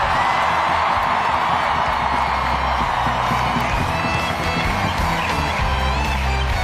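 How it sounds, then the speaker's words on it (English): A stadium crowd at a USWNT versus Mexico women's soccer match keeps up a loud, continuous roar of applause and cheering, a dense wash of clapping and shouts with no break. "Keep that applause going"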